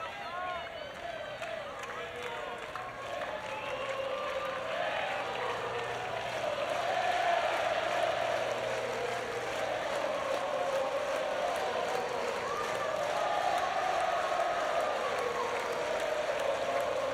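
A US Open tennis crowd at night cheers and applauds steadily, a broad, sustained roar of clapping and voices that swells slightly midway, while a commentator talks over it.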